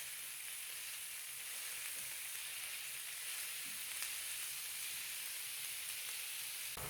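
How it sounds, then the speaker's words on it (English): Minced meat browns in a hot frying pan for an Australian meat pie, giving a steady, even sizzle and hiss that holds without pause, fairly close by, with no voices. "I'm just going to work this through for another 3 minutes, 4 minutes until the mincemeat's browned off."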